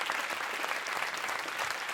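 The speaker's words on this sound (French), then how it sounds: "on voudrait aussi partager vos applaudissements avec Constant, qui est tout là-haut, derrière vous, à la régie" A theatre audience applauds at the close of a stage performance, a dense, steady wash of many hands clapping at even loudness throughout, with no voices over it.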